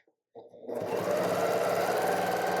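A Bernette b08 sewing machine stitches fabric for quilting. It starts after a brief silence, then settles into a loud, steady mechanical whir with a rapid rhythmic needle beat, close to the listener.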